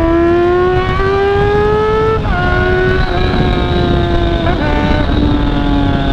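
A Yamaha Fazer 600 motorcycle engine roars loudly and close, its pitch climbing through revs with a few gear shifts dropping the tone before it rises again.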